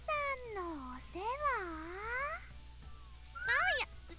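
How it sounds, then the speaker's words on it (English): Cats meow in the video game Hyperdimension Neptunia Re;Birth 3, several close, drawn-out, whiny meows with bending pitch, coming one after another with short pauses between them. "Oh, just actual cats."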